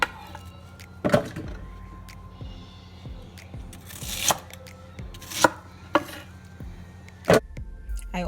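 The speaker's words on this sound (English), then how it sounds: "I'll start off by cutting the onions and the ginger" A knife chops onions and ginger on a board for Ghanaian peanut butter soup, scattered sharp thuds spaced irregularly with some faint scraping in between, close and clear with no voices.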